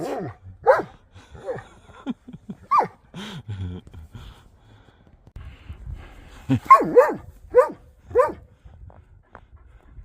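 A dog barks repeatedly outdoors while snow is being shoveled, a string of sharp, fairly close barks and yips in uneven bursts with quiet gaps between them.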